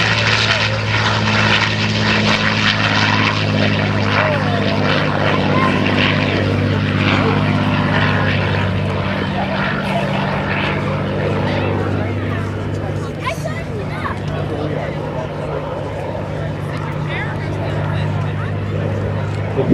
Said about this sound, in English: let's listen to the sound of that V-12 engine